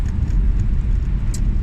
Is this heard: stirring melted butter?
no